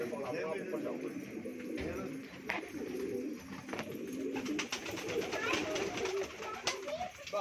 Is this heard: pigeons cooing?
yes